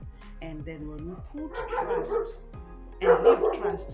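A dog barks repeatedly in short bursts, loudest near the end, mixed in with someone speaking steadily over it.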